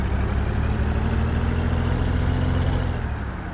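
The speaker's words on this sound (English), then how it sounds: "Truck's a little loud." Truck engine running close by, a loud steady low rumbling drone with a constant hum that eases off slightly near the end.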